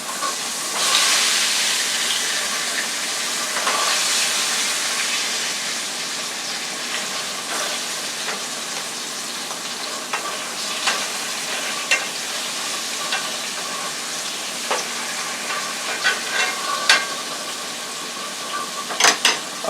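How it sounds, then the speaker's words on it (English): Pork chops frying in a pan on the stove, a continuous bright sizzle and hiss with scattered crackles and pops that grow more frequent toward the end, close and moderately loud. "now we're still on the frying of the pork chops"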